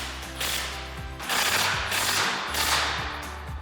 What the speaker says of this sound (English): And with our 21mm socket on our impact and 21mm wrench.